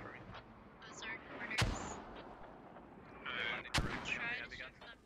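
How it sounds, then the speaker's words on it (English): Mortar rounds fire in the Squad military video game. Two sharp, heavy booms sound a couple of seconds apart over a steady background hiss, with voices chattering around them. "more mortars going out"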